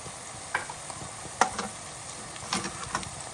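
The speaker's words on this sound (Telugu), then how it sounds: "నేను ఒక స్పూన్ మాట జింజర్ గార్లిక్ పేస్ట్ చక్కగా వేసేసుకొని కలుపుకోండి" A spoon stirs ginger garlic paste into softened onions in a pan, giving faint soft scrapes and a few light taps over a low sizzling hiss.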